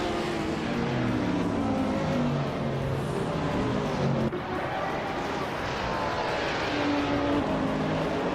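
Race cars scream along in a high-speed race, their engines whining and rising in pitch under a constant dense roar, with a brief thump partway through.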